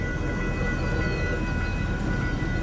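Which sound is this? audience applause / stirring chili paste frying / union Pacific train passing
union Pacific train passing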